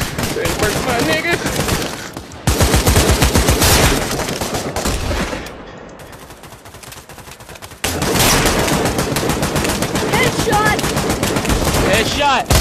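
Rapid automatic gunfire from the VR shooter game Pavlov rattles loudly in dense bursts, drops off for a short lull, then resumes, with excited voices talking over it.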